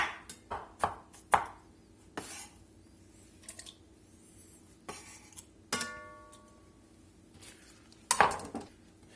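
Knife chopping ginger on a cutting board, giving a series of sharp, irregular cuts and taps spread across the stretch, close and fairly quiet, with a brief metallic ring partway through and no talking.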